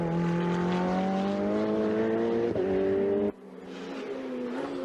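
A turbocharged Ferrari 488 GTE race car at full throttle on the Hungaroring circuit, its engine note climbing loudly and steadily, briefly dipping at a shift, then cutting off abruptly before quieter revving resumes.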